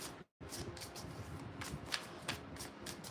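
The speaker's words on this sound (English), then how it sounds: "I need a real good shuffle on this deck" A deck of tarot cards being shuffled up close, a steady riffling rustle with a few sharper snaps and one brief gap near the start.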